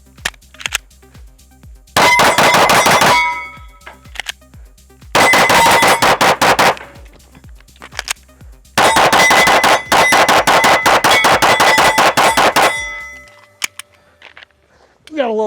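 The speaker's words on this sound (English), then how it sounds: "We've got like 175 rounds to go through, so we gotta make sure these start shooting faster." A Canik TTI Combat pistol fires rapid strings of shots that ring off steel targets, in three loud bursts separated by short pauses, with a voice briefly heard at the end.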